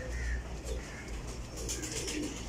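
Pigeons coo softly and repeatedly close by, low throaty calls against a background of light ambient noise, with no talking.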